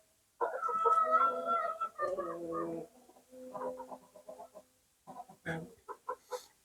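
Chickens on a farm, close and fairly loud, clucking and crooning in several irregular bursts separated by brief pauses.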